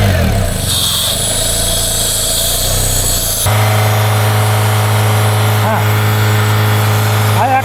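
A 2003 Honda engine with a P0507 fault idles high and steadily, a loud continuous drone with a tone that holds and then shifts partway through, close to the microphone.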